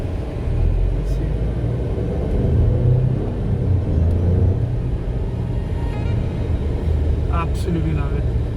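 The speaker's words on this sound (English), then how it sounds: "So when those turbos kick in, it just juts ahead." An Alfa Romeo Stelvio Quadrifoglio accelerates hard with its turbos, heard from the cabin as a loud, continuous low engine and road rumble with a brief higher whine near the end, and a person talks over it.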